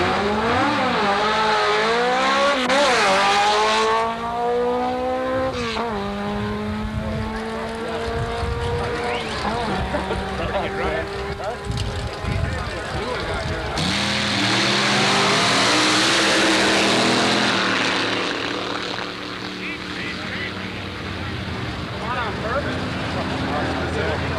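Antique drag racing cars at Carlsbad Raceway roar loudly, their engines revving up in rising harmonic sweeps and then rushing past. A second high-revving burst follows mid-run, with voices faintly underneath.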